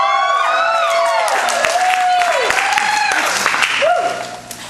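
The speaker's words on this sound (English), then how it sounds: "Can I get a round of applause for her?" Audience applause for a performer at a comedy show, a dense wash of clapping with cheers and whoops layered on top; loud and close, fading toward the end.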